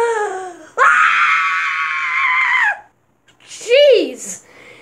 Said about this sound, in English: That scream was even louder than the scream you made